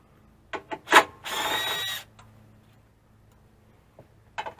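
Power tool work on 10 mm bolts near the front driveshaft of an Infiniti FX35: a couple of short ratcheting bursts, then a sustained near whir of about a second, followed by scattered light clicks of parts.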